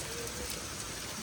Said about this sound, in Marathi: हे बघा पाऊस आता थोडा वाढतोय.